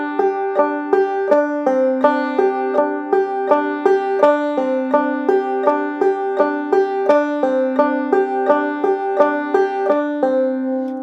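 Banjo played in an even clawhammer exercise, three double thumb strokes on the first and fifth strings followed by a drop thumb on the first and second strings, repeating in a steady, close, bright plucked pattern without speech.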